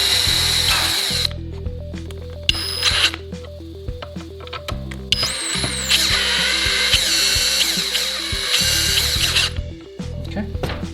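Power drill driving machine screws into the aluminium lock casing of an Alunet BF73 bifold door, with repeated short whirring bursts and ratcheting clicks, close and loud, and no talking.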